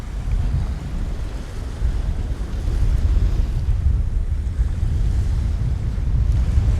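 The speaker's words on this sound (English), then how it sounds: "Listen to them waves." Ocean waves wash onto the beach at Pattaya before sunrise, a steady loud roar of surf with heavy wind rumble on the microphone, continuous with no talking.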